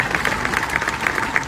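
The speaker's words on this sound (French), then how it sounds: "Ah oui, ça s'applaudit" Audience applause at a Congolese political talk, a steady, dense patter of many hands clapping at moderate loudness throughout the short stretch, with a faint voice mixed in.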